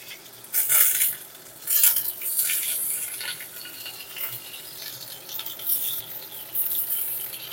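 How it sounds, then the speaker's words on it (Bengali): Pointed gourd (potol) fries in hot oil in a wok with a soft, continuous sizzle, broken by repeated bursts of a spatula scraping and clattering against the metal, close and fairly loud. "তেল গরম হয়ে গেছে, এই তেলের মধ্যে পটলগুলো ভেজে নেব"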